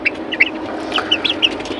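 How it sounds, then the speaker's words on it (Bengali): Young month-old chickens, a mix of cockerels and laying hens, cluck in short, scattered bursts on a rooftop farm, several soft close calls over a low, steady background. "কিন্তু এবারে মুরগিগুলা অনেক বড় হয়ে গেছে"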